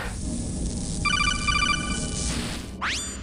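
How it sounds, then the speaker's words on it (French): A default phone ringtone in the Metal Gear Solid video game trills in a fast repeating electronic pattern, loud and close, ending with a quick rising sweep. "je vais rester sur la sonnerie de base"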